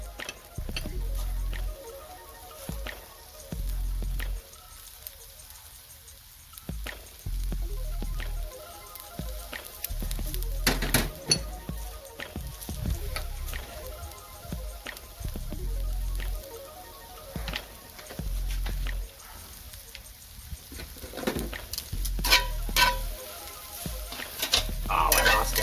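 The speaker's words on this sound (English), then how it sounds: "I'm going to pull it to the side and go in with my broccoli" Broccoli fries in oil in a pan with salt and pepper, a soft intermittent sizzle and crackle broken by stirring and clatter, with a person talking in between.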